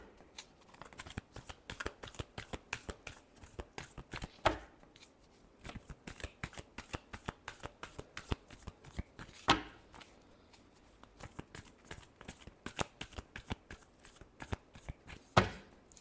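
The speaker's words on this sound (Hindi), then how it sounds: "last shuffle" Tarot cards shuffled by hand, a close, fast run of crisp riffling flicks and slaps in an irregular rhythm with a few louder snaps, quiet overall and with no talk.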